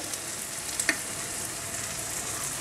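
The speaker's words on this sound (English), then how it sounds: "now combine all the spices let it fry for a while" Cumin, coriander and vegetable masala powders fry in a pan for a spicy ridged luffa dish, a steady soft sizzle with a few small pops and crackles.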